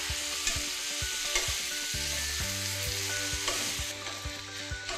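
Pumpkin, egg and basil sizzle as they are stirred in a hot pan, a continuous frying hiss broken by repeated scrapes and clinks of the utensil against the pan, close and clear with no voices.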